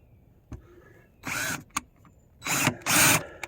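Power drill driving screws into a pressure-treated deck board, with short whirring bursts and clicks, loud and close, and quiet gaps between them.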